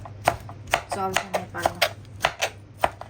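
A blunt kitchen knife chops vegetables on a board in a home kitchen, about a dozen uneven thuds spaced through the clip while someone talks over them.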